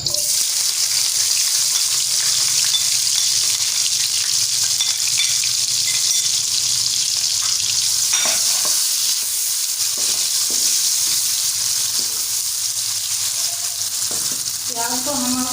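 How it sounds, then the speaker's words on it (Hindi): Onions frying in a spoonful of ghee in a kadai give a steady, loud sizzle that runs the whole time, with a few soft stirring scrapes near the end and no talk. "प्याज को हम ब्राउन होने तक भूनेंगे"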